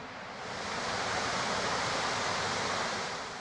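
Water pours steadily from a waterfall near Ubud, Bali, set in flat lowland rather than mountains, a broad, constant rushing roar that swells slightly at the start and then holds even and loud.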